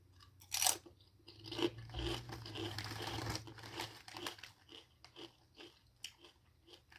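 Someone bites into and chews a kettle-style potato chip close to the microphone, with a loud first crunch followed by a run of crisp, irregular crunches that gradually soften. No talk is heard over it.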